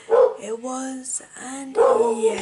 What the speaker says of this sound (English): and if you hear my dogs barking,